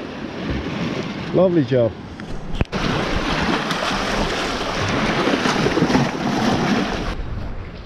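Small waves break in the shallows on Herm Island with a steady surf wash, mixed with buffeting wind noise on the microphone; someone speaks briefly near the start.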